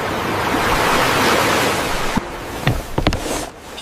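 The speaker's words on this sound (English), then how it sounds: "And the sea whispered in the distance." Distant sea surf makes a soft, steady, broadband wash that fades after a couple of seconds, followed by a few faint scattered taps and rustles.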